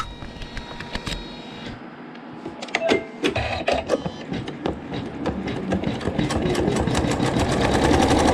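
A sewing machine stitches down wool appliqué on a quilt block, running in close, fast mechanical bursts that settle into steady continuous stitching.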